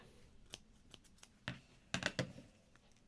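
Scissors snip through crochet yarn while tying off a granny square: a few light, crisp cuts scattered over a few seconds, the loudest cluster near the end, close and otherwise quiet.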